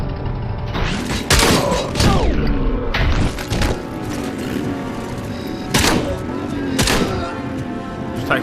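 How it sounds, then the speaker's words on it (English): Gunshots in the game RoboCop: Rogue City during a bank heist, heard as several heavy, booming thumps spaced a second or so apart, loud and close over a busy backdrop of ringing tones. "Just taking pot shots at him."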